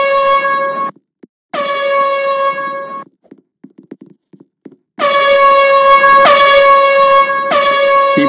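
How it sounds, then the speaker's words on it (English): Wrestling crowd at a Pinnacle Wrestling ladder match blasting air horns: long, loud, blaring tonal blasts, one held, a second after a gap, then a pause with scattered crowd noise before several overlapping horns blare together at the end. "People now blast the air horns into V's ears."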